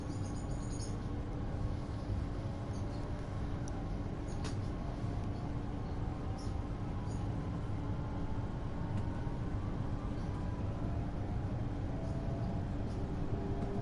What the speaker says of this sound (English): This train sounds like a Class 800 when it departs.